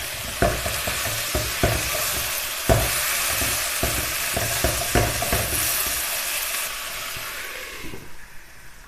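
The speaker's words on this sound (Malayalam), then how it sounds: "ചിക്കൻ വേവുന്ന സമയത്തിനുള്ളിൽ ഇടയ്ക്ക് അടപ്പ് തുറന്നൊന്ന് ഇളക്കി കൊടുക്കാം." Chicken for a Kerala-style nadan chicken thoran stirred in a covered pan as it cooks, with steady sizzling and repeated scraping knocks of a spoon against the pan, the frying hiss fading near the end.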